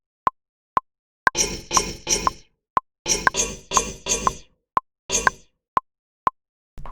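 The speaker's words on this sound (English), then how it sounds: "So I'm making some kind of weird bass type sound" A weird bass-type sound played on a sampler, repeated in short chopped bursts over a steady click track ticking alone between phrases, close and moderately loud.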